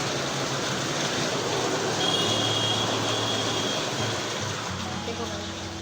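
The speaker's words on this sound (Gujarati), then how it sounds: "વરસાદ ચાલુ થઈ ગયો છે" Heavy rain pours down in a steady, dense hiss that fills the air without a break, with a faint, muffled voice underneath.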